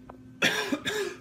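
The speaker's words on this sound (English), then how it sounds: "That was a cough" A single sharp cough close by, followed by a second rougher cough a moment later, after a brief quiet start.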